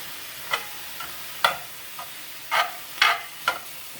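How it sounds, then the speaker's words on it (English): Ground meat for a taco noodle casserole browning in a pan, with short scraping stir strokes coming in irregular bursts over a quiet background sizzle. "Get ready to start frying. Let everything get browned real good."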